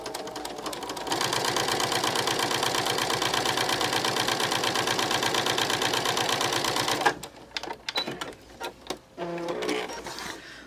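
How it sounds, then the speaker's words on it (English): A sewing machine fitted with a quarter-inch patchwork foot stitches a one-inch fabric strip to a seam edge, running in a fast even whir for about six seconds before stopping, followed by light handling clicks and rustles. "I'm going to sew a 1-inch strip to the edge of a seam"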